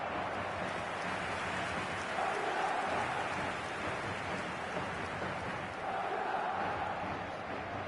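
Stadium crowd noise from the eFootball 2025 video game fills the air as a dense, steady roar, rising slightly in a couple of swells as fans sense a comeback.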